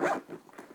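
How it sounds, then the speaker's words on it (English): A quick zipper pull closing a hard carrying case for an Auxito jump starter and air compressor, one short rasping sweep up close, under a second long. "Zipper shut."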